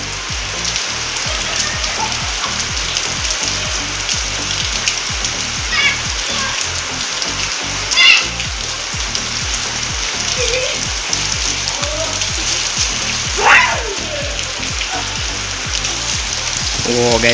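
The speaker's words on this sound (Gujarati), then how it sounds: "ઓ ગાઈસ વરસાદ કેવો આવ્યો આમ જોવો ગાઈસ તમે." A heavy downpour hammers nearby surfaces in a loud, unbroken wash of splashing rain, close and constant for the whole stretch, with faint voices surfacing only briefly.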